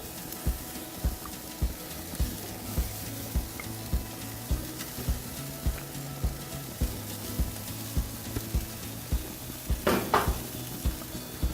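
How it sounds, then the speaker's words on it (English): Steady sizzling of black sea bass on a smoking hot grill, with regular scraping and clinking of a utensil and a brief louder hiss near the end. "Smoking hot grill, get it on there, give it a sizzle."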